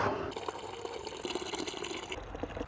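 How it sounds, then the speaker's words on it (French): Water pours into a bucket holding ceramic car shampoo, a steady splashing and gurgling fill at fairly low volume with no speech. "J'essaye de doser pour être sûr de faire à peu près comme ils disent, donc produit très liquide, voilà, et puis maintenant on met de l'eau."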